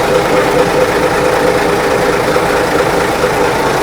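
A boat engine runs steadily somewhere in the Sundarbans, a continuous loud mechanical drone with a low rumble that holds without a break from start to finish.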